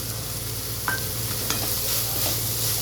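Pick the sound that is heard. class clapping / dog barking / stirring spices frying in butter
stirring spices frying in butter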